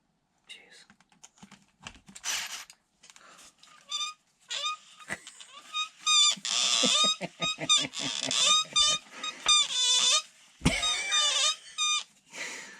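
Sharp repeated squeaks and squeals from squeaky Mojave pots on a Team Corally Kronos XTR RC car front end turned by hand, in irregular bursts amid clicks and mechanical rattling, fairly close and moderately loud.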